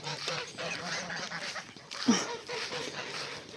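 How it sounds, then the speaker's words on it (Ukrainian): Geese honk and chatter close by in a busy, overlapping flock, with one sharper honk standing out midway. "Гусі мої гусі, хочуть пастися, бачите."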